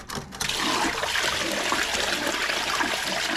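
A garden hose rinses sand out of a pool filter housing and its bottom drain, a steady broadband wash of running, splashing water that starts abruptly and continues loud and close throughout.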